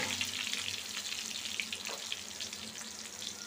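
Chopped garlic dropped into hot oil in a pan while preparing a dried-fish curry, giving a steady, close hiss of sizzling with faint crackle throughout.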